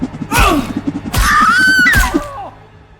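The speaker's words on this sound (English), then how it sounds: "Several of the Morlocks are cut down where they stand, their blood spraying the room, and their screams filling the air." Several agonised screams in an audio drama attack scene, as mutants are cut down, come in three loud, long bursts with groans and impact sounds between them.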